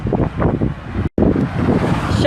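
Outdoor wind buffeting a microphone in gusty rumbling bursts, with a brief dropout mid-way, and a voice or two faintly mixed into the blustery noise.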